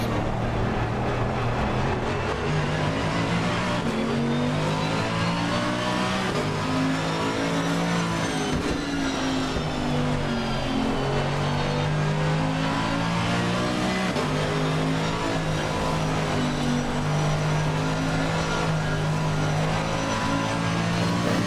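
On-board engine of a GT3 race car at Zandvoort, loud and continuous, its pitch dropping under braking and climbing again as the throttle opens, shifting through gears with no speech.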